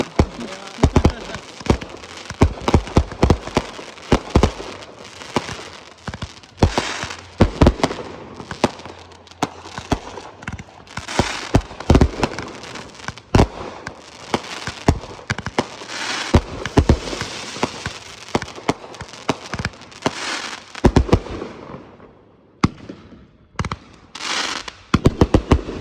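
A large Fourth of July fireworks display sets off dense, loud, rapid bangs and crackling bursts in continuous volleys for most of the time, with a brief lull near the end and faint voices in the background.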